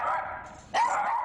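A rescued, neglected small dog barks and whimpers nearby in short yelps, with a louder bark about halfway through, and no one speaks.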